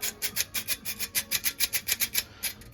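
A sieve lid for sifting being worked back and forth, giving a steady run of rhythmic raspy rubbing strokes, about five per second, close and fairly quiet with no talk.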